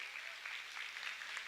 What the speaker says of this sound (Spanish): ahí está don Rogelio, pero un aplauso